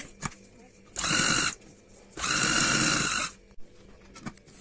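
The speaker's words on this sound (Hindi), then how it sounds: "और इसके साथ साथ सिलाई लगाते जाएंगे, टॉप सीम करते जाएंगे।" Sewing machine stitching and top-seaming along a garment's front neckline in two close, loud bursts of about a second each, separated by pauses with faint handling noise.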